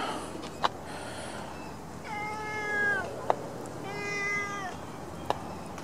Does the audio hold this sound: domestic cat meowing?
yes